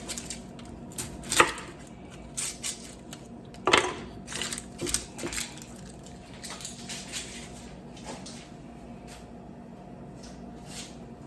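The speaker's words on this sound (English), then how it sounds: "We're gonna cut this on, get it started. A large onion." A knife chops a large onion on a board, with irregular sharp knocks in short bursts, a few louder strikes and softer taps between quiet pauses.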